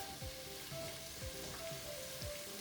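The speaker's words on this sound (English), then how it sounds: "While my onion is sauteing" Onion sautéing in a pot: a soft, even sizzle with a few light stirring scrapes and faint tones beneath, quiet and close with no voices.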